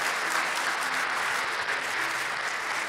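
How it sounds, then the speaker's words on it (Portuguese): Congregation in a church service breaking into joyful applause, a loud, continuous wash of many clapping hands filling the room evenly from start to finish with no voices on top. "Quem está alegre, dá salva de palmas para Jesus."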